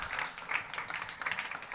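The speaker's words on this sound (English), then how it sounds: "Let's give her a round of applause." Brief, fairly soft applause from a small audience at an evening storytelling gathering, a steady patter of clapping hands with no talk over it.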